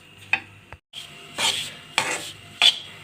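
Semolina halwa frying and being stirred in a kadhai, a spoon scraping and clanking against the pan in several distinct strokes, close and clear over a soft sizzle.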